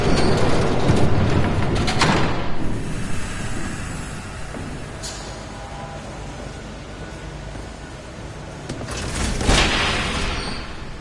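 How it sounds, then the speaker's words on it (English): A train approaching in the Batman Telltale video game, a broad rumbling wash with clattering rail bursts that swell near the start and again toward the end, with no talk over it. "There's a train coming."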